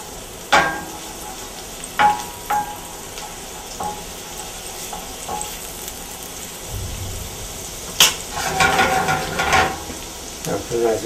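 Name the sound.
garlic and shallots frying in a pan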